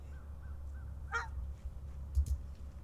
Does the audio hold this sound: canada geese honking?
yes